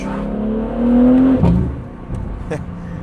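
BMW G8X with the S58 engine and an HFD midpipe exhaust revving near buildings, rising into a loud held rev then falling away to a rumbling idle with burbles, fairly close.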